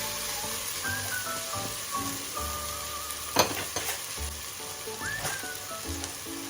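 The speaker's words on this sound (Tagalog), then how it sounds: "Tapos haluin po natin lahat." Pav bhaji vegetable mash being stirred in a hot pan, with steady close sizzling and frying hiss under intermittent scraping and knocks of the spoon against the pan.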